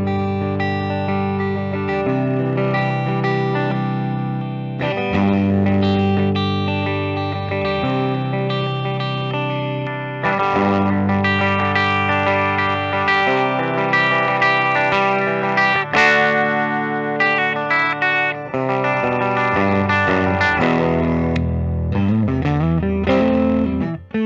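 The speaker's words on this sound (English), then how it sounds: "Let's go ahead and do some clean tones." 2022 Gibson Slash Les Paul Standard limited-edition electric guitar playing sustained chords and melodic lines with a clean, chorus-washed tone, loud and continuous throughout.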